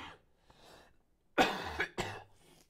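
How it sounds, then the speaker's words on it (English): A person coughs several times into a nearby microphone during an online game match broadcast, with a few soft breathy sounds first, then two or three sharp, loud coughs close together. "Sorry, guys, for the coughing again."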